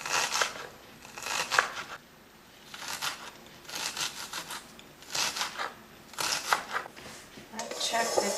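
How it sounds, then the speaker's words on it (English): A knife chops potato on a cutting surface in quick rhythmic bursts of scraping strokes with short pauses between runs, fairly close and moderately loud. "I found it tastes better if I chop it."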